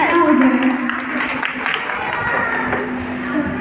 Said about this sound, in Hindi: तालियां बजाना, तालियां।